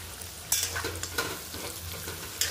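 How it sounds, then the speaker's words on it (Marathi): Carrots and chilli stirred in hot oil for an instant carrot pickle, close spoon scrapes and clinks over a soft continuous sizzle, with no one speaking. "मिरची ॲड केल्यानंतर आपण गाजर ॲड करतोय, तर सगळं व्यवस्थित हलवून घ्यायचं"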